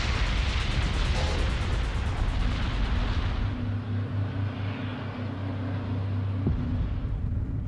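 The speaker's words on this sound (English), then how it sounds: "The air traffic controllers hear the explosions" Explosions after a runway collision between aircraft: a deep, continuous rumbling roar with heavy low-end booms rolling through thick air, and a sharp thud near the end.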